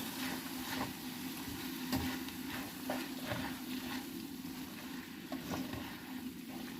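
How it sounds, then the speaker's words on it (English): Chicken and bacon pasta gets stirred in a frying pan, a steady soft sizzle with repeated scraping and clinking strokes of the spoon, close and fairly quiet, with no talk. "Give it a stir around, then take all the flavour in."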